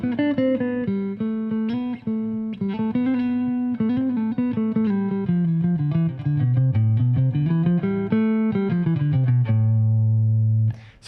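A jazz guitar plays the Aeolian scale as a melodic line of clear single notes stepping up and down over a sustained low tone, ending on a long held note, with no talk.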